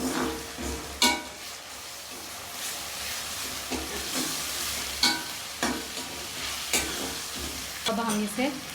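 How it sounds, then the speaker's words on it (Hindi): Garlic-ginger paste with crushed green chillies fries in a pot for a mixed dal. A constant close sizzle runs throughout, broken by several sharp spoon scrapes and knocks at irregular intervals. "अब हम इसकी स्मेल ख़त्म होने तक इसे फ्राई करेंगे"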